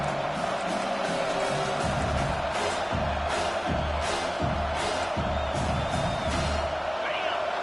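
A home crowd in an NCAA football video game roars in a steady, broad wash of cheering, with a commentator talking over it.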